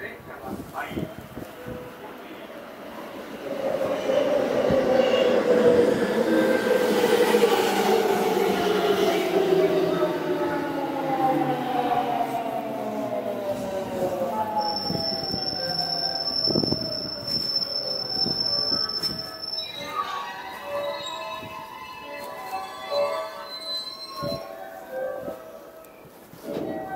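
A JR West train on the JR Tozai Line pulls into platform 3 at JR Nishinomiya station. The motor whine falls in pitch as the train slows, then the wheels squeal at length. Station announcements play over it.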